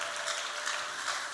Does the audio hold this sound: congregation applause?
yes